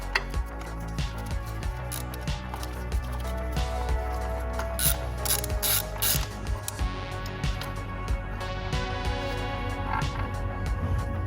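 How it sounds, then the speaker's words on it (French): Ratchet working loose an old spark plug deep in an Audi engine, a steady run of close mechanical clicking and rattling ticks with occasional sharper metallic snaps, no voices. "Là, on dévisse la bougie."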